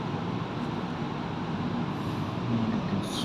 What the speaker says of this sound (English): This is electric local train.